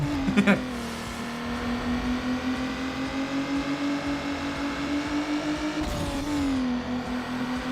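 A Toyota Supra race car engine in Need For Speed Underground Rivals drones steadily at high revs, with a brief shift dip near the start and another near the end, loud and continuous.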